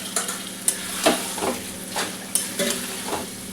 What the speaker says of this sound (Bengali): দেখুন বন্ধুরা, মাংসটা কষা হচ্ছে।